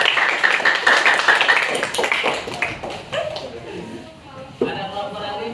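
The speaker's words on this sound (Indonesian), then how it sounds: "Tepuk tangan untuk kelompok 4" Classroom group clapping for group 4 after a presentation, a burst of hand claps over the first few seconds that fades as voices talk over it.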